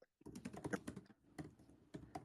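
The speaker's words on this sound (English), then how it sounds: "I'm just typing text sentence by sentence" Fingers tap out text on a phone, a quiet run of close, uneven clicks and taps in bursts with short pauses, heard alone in a still room.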